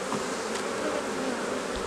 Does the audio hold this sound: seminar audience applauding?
no